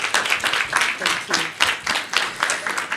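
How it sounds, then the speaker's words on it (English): Scattered, uneven clapping from a modest conference audience at a mentorship book launch, coming in distinct pulses rather than a full roar, with a voice speaking over it partway through. "I think that applause can go much, much louder."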